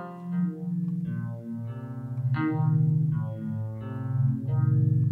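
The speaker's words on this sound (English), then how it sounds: "It's got the phaser on it." A homemade biscuit tin guitar played through a phaser effect, sliding droning notes with sweeping, swirling tone and slight distortion, loud and alone.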